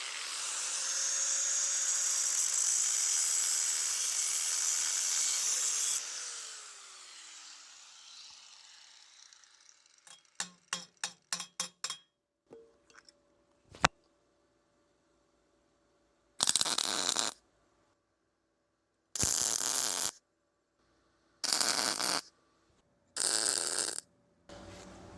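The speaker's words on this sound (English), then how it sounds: "We're on 110 voltage and it's welding just fine." MIG welder in synergic mode, running on 110 volts and welding a trailer hitch. It gives a continuous crackling hiss for about six seconds, then a quick run of clicks and several short separate bursts of welding buzz with pauses between them.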